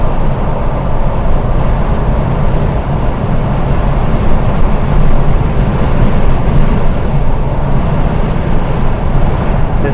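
Steady road and engine noise from a car driving along roads around Walt Disney World in Orlando, Florida, a continuous loud rumble with no pauses or talking.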